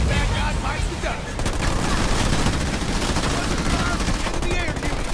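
Marines firing rifles at enemy air units in Halo Wars 2, a dense, continuous fusillade of rapid gunfire with booming impacts, loud and sustained, with a voice faintly present beneath the shooting.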